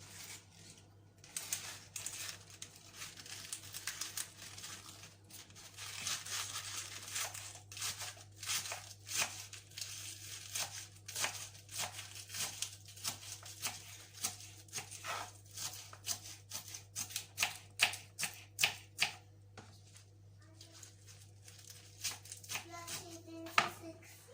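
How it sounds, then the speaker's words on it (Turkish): Rapid, irregular knife taps on a cutting board, chopping spinach, getting quicker and sharper toward the end over a low steady hum. "Şimdi ıspanaklarımızı doğrayalım."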